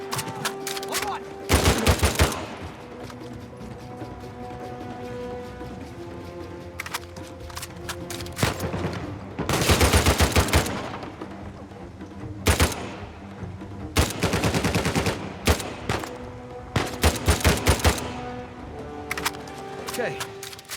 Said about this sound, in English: This gun we picked up should be an absolute beast, but the fire rate is a little bit crazy though